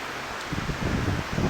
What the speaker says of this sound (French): Du vent qui se lève